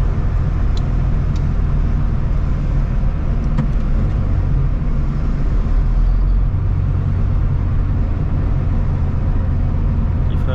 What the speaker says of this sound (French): Petit frein moteur.